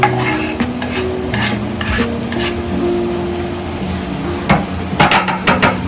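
Onion and carrot fry in a pan for cabbage soup, a constant close sizzle broken by scraping stirs and repeated spoon taps against the pan, with no talking.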